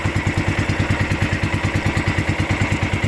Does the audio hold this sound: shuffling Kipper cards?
no